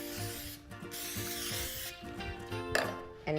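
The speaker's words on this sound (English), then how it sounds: "We're gonna do another spray." Liquid being sprayed from a spray bottle onto ribs before a dry rub, a series of soft hissing spritzes and rubbing sounds close up, with a sharper burst near the end over a television kitchen background.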